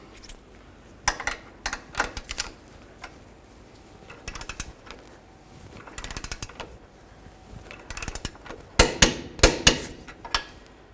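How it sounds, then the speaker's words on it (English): Ratcheting and clicking of a torque wrench tightening the lower bolt of a rear shock on a 2008-2012 Jeep Liberty, in intermittent bursts of metallic ticks that end in a few sharper clicks, close and with no talk. "We're going to do the lower bolt to 85 foot-pounds."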